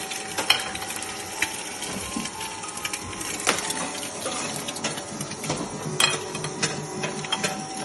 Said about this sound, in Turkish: Şu an yumurtamızı kızartıyoruz.